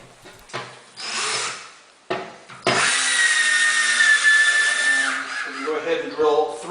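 A power drill drives into a wooden cabinet filler strip during a wall cabinet installation, with short whirring bursts followed by a long, loud, steady grinding run up close, the motor pitch shifting near the end.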